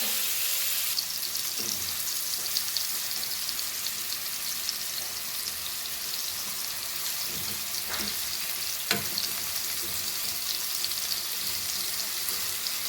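Elephant foot yam pieces frying in oil for a Goan curry, a constant bright sizzle with a few scattered stirring scrapes and knocks, close and steady, without speech.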